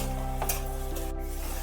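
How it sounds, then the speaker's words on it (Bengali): Potatoes fry in a kadai for a Bengali cauliflower ghonto, a steady sizzle with a brief scrape of stirring, close and continuous over a constant low hum. "আলুগুলো কিন্তু ভাজা হয়ে গেছে"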